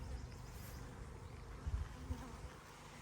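Honeybees buzz at a hive while building out comb, a faint, continuous low hum with a few slightly louder passes nearby.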